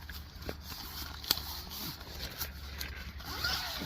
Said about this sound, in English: It zips up all the way.